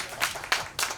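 A few loud, evenly spaced claps from the audience at a pumba show during the Masan Chrysanthemum Festival, close and rhythmic over about a second.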